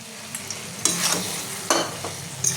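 Chopped coriander is stirred into a simmering pumpkin, potato and dried-fish curry, a spoon scraping and sloshing through the thick mixture in several distinct strokes over a soft background sizzle, close up and with no talking.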